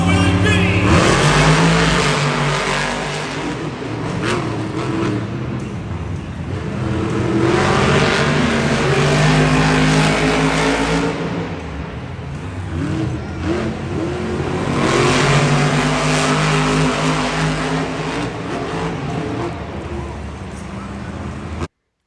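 Monster Jam trucks MaxD and Blue Thunder race at a 2022 World Tour event in London. Their engines roar loudly in long rising and falling surges, with an announcer's commentary over the din.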